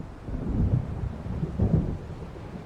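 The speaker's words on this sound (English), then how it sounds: "It seems there's a storm coming." Low, rolling thunder rumbles from an approaching storm in the video game Alan Wake Remastered, two swelling booms over a steady background wash, with no voices.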